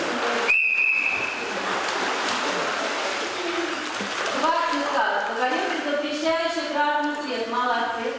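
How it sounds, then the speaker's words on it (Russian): A single short, sharp whistle blast rings out early over the echoing din of an indoor pool during a toddlers' swimming exercise, followed by talking over splashing water. "Когда услышали один свисток, нужно поднять зеленый шарик."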